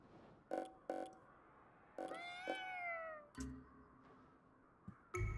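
Several cat meows inside the video game Ghostwire: Tokyo, including a long rising-and-falling drawn-out mew among shorter calls, set against a soft game ambience and a few sharp clicks.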